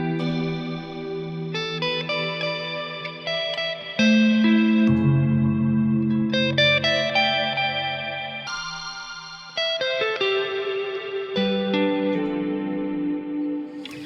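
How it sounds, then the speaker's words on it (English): An electric guitar played through a Strymon NightSky reverb pedal, notes and chords ringing into a wide shimmering wash that shifts abruptly in pitch and texture several times as the reverb is switched while playing. "I'm going to dial the reverb up once again, and I'm going to play just normally."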